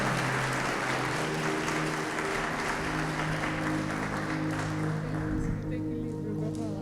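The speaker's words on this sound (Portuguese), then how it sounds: "Aplauda o Senhor pela vida da Carmen." A church congregation applauds steadily and loudly, dense clapping sustained throughout, with a musical drone and low voices mixed in underneath.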